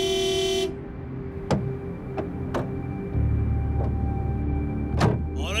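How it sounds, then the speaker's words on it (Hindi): A car horn blares in a long steady honk at the start, followed by a few sharp clicks and thumps over a low engine hum. "हॉर्न क्यों बजा रहे हो? किस बात की जल्दी है तुम्हें?"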